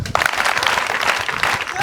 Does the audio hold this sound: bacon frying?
no